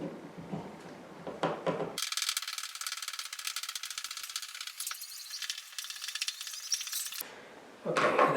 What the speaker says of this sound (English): Then we screw our screws in.